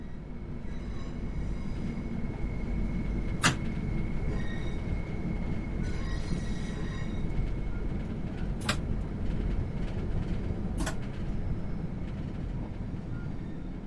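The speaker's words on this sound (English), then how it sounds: "Begin applying a small amount of braking force to bring the train to a gentle stop." Train braking toward a station stop in Train Sim World 3: a steady low rumble of rolling wheels and running gear fills the clip, with a few sharp, brief brake or wheel squeals cutting through at intervals.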